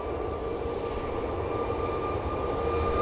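A Malta Air jet airliner operated by Ryanair departs Manchester Airport, giving a steady, moderately loud engine roar with a faint whine over it.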